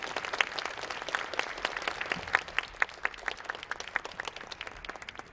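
A church congregation at a national prayer-day gathering claps in a steady, moderately loud round of applause. Sharp individual claps stand out against the crowd's hand-clapping, with no talk over it.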